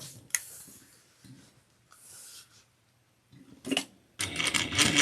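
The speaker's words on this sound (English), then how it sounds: "we're going to top stitch this top seam, close" A sewing machine top stitches a tote bag seam with an eighth-inch allowance, running in short whirring bursts separated by pauses, the last burst louder and closer.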